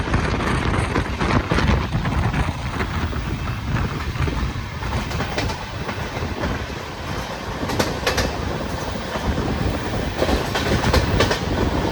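The Guruvayur–Madurai Express, running with LHB coaches, nears Munroe Island railway station in Kerala. Its loud, steady close-up rumble carries clickety-clack wheel beats and wind buffeting throughout, with no voices.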